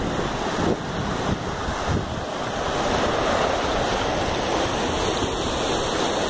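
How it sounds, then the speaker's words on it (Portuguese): Rushing water of the Rio Preto waterfall (cachoeira) pours in a steady, dense roar close by, continuous and loud with no speech, with some wind buffeting the microphone. "Ficar debaixo da cachoeira é bom."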